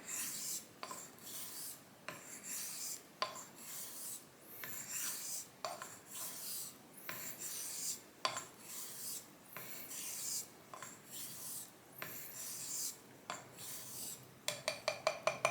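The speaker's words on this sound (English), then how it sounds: "I'm just kind of enjoying the honing session here" A Bengall frameback straight razor is honed on a wet Coticule stone, rhythmic rasping strokes repeating about once a second, close and steady, ending with a quicker burst of short strokes.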